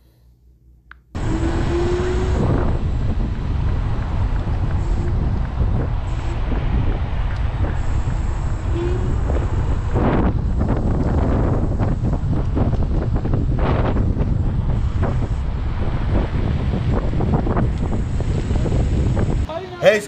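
A Dualtron City electric scooter rides through city streets while strong wind buffets the microphone in a constant rushing roar, with faint motor whine and occasional thumps beneath, starting abruptly after a quiet second.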